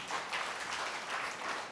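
Parents in a church congregation clap together, a soft, steady wash of scattered applause heard from a distance with no clear voices.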